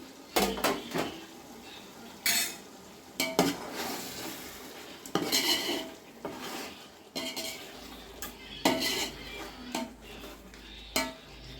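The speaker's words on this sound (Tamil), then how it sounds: "நம்ம நடுவில் கொஞ்சம் கிண்டி விட்டுக்கிறோம். ஏன்னா இஞ்சி பூண்டு பேஸ்ட் போட்டது தீயும்." A spoon stirs chicken and ginger garlic paste masala in a pot for Hyderabadi chicken biryani, with irregular metallic scrapes and clanks over a faint low sizzle and no talk.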